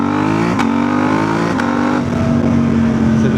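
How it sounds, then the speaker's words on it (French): A KTM 890 Rally motorcycle accelerates hard off-road, its engine roaring up through gears with two sharp shift breaks, loud and close throughout. "on va faire une petite accélération ici"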